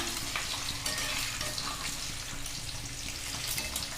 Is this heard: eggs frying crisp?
yes